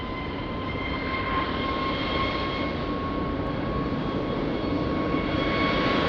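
An airliner taking off from runway 20 at Lisbon Airport: a steady, sustained engine roar with a constant whine, continuous and unbroken throughout.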